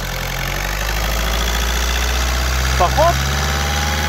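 A VW Golf 6 1.6 TDI CAYC diesel engine with a turbo position sensor fault idles steadily at close range, a continuous low rumble under brief speech.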